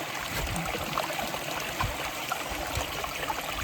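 Forest river water flowing and trickling over stones, a steady close babble with small splashes throughout, no voices.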